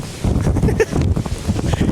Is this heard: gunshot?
no